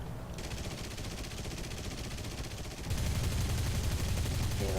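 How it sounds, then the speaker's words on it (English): Bomber cannons fire in the War Thunder video game as a steady, rapid stream of shots that keeps going and grows louder partway through, with no voices. "Here the cannons firing away."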